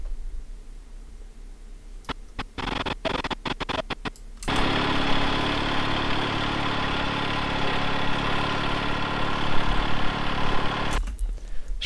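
Tractor engine idling: a few clicks and knocks give way to a steady, loud, close mechanical drone that holds for several seconds, then cuts off.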